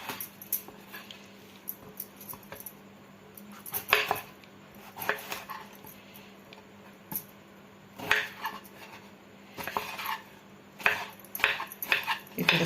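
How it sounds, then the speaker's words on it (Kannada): Ridge gourd being cut into small pieces with a knife in a home kitchen, a steady run of sharp, irregular taps and clicks on the board, fairly close and with no talking. "ಹೀರೆಕಾಯಿನ ಈ ಥರ ಸಣ್ಣ ಸಣ್ಣದಾಗಿ ಕಟ್ ಮಾಡ್ಕೊಳ್ಳೋಣ."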